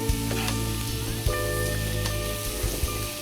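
Pizza pocket filling sautéing in a pan with pizza masala, a steady close sizzle broken by a few soft stirring knocks and scrapes, with a faint tonal hum underneath.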